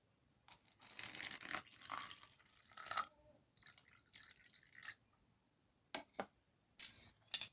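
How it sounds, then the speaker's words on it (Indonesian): Water poured onto turmeric in a school chemistry practical for making a natural acid-base indicator, heard as several short splashy bursts and drips with pauses between, fairly quiet and close. "Kemudian kita tambahkan air."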